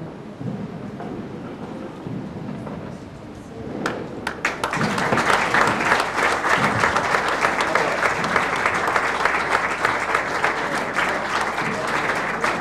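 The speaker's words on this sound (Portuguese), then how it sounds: "homenageá-los com a nossa salva de palmas" An audience at a tribute ceremony in Caldas das Taipas breaks into applause after a quieter stretch, the clapping swelling to a loud, dense, sustained ovation that fills the room.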